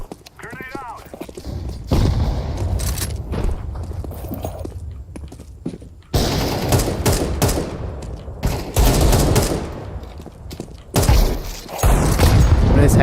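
Counter-Strike 2 match with loud, dense bursts of gunfire and heavy blasts, including a grenade explosion, sounding in waves with brief pauses, while a player talks over the action.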